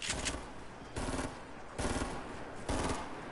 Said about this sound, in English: Oh, it's people shooting.